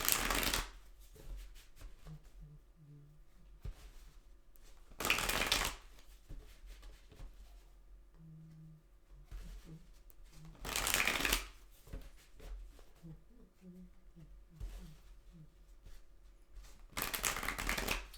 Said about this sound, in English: Let's give it a couple shuffles here.